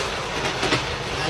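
Train rolling along the rails in 1973, a steady rumbling wash of wheel and carriage noise with a faint clatter, close and continuous, no voices.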